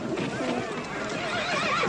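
A half-wild horse in a Western ranch setting lets out a loud, close neigh lasting about two seconds, with hoof clip-clop mixed underneath.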